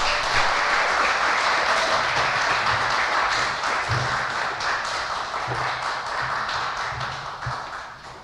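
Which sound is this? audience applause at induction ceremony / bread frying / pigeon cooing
audience applause at induction ceremony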